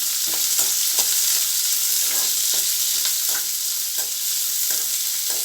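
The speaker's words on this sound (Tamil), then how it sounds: "இதை கொஞ்சம் நேரம் நம்ம நல்லா வதக்கிக்கலாம்" Onions sautéing in a pan for chana masala give a dense, continuous sizzle close up, with regular spoon-stirring scrapes repeating about every half second throughout.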